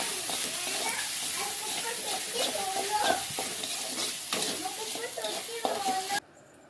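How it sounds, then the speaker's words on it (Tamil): Tomatoes sauté in a hot pan for chicken gravy, a constant hiss of frying under scraping stirs of a spatula, close and even, ending abruptly. "இப்போ தக்காளி போடணும். போட்டு நல்லா வதக்கணும்."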